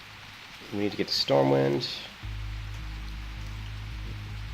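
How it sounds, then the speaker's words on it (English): Heavy rain in the video game Project Epoch becomes a steady, loud wash under and after a man's brief speech. "Got some big time rain coming down right now"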